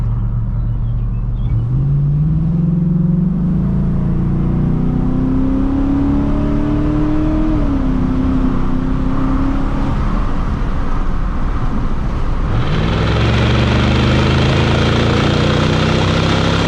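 A Chevrolet Silverado pickup with an 8.1-litre V8 accelerates hard, its deep loud engine note rising through gear changes with a climbing roar, heard from inside the cab without talk.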